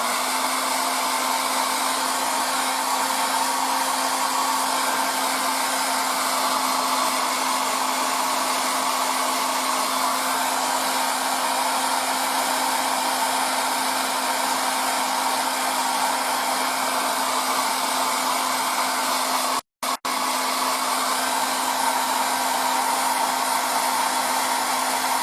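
A hair dryer blows steadily to dry paint on a 1:35 Takom Type-69-II model tank, a loud continuous whine and rush of air that cuts out for a split second near the end, with no talking.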